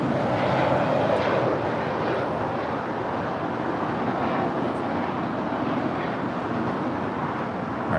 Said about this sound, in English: Up next is the Turkish Airlines Dreamliner heading back to Istanbul.